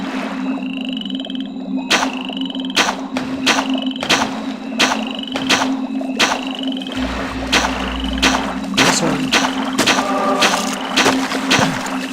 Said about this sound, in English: We need to see the frog.